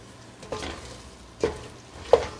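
Flour and curry powder cook gently in a soup pot for fish mulligatawny, a soft low sizzle broken by three short stirring scrapes against the pot.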